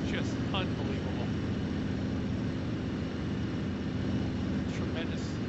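Jumo 213 aircraft engine of a D9 fighter plane in the IL-2 1946 flight game, a loud continuous droning roar that holds steady for the whole span with faint intermittent higher sounds over it.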